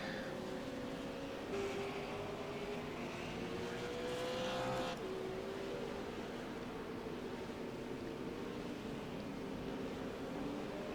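V8 Supercars race cars circling Phillip Island circuit, a steady engine drone with rising and falling tones as cars pass at mid distance, continuous for the whole stretch without talk.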